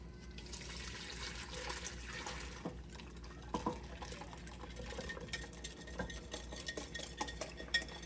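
Egg mixture being stirred fast in a pot makes quiet, close scraping and sloshing with a few light clinks of a utensil, continuing without speech.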